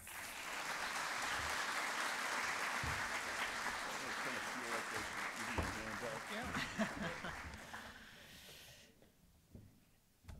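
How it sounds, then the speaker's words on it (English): Sustained, dense applause from an audience greets the Danish Ambassador to the United States at a Nordic Swan opening event. Voices mix into the clapping, and it thins out and fades near the end. "I'd like to ask for a round of applause for the Danish Ambassador to the United States, Lona Wisborg, Her Excellency, Lona."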